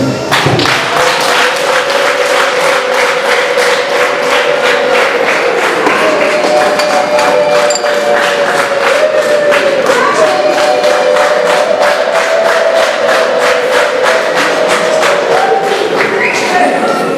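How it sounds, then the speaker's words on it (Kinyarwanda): Wedding guests at a civil marriage ceremony clap steadily in dense, continuous applause, with a high sustained ululating tone running through the crowd noise. "natwe twanirwa kubashimira tubahaye amashyi n'impundu"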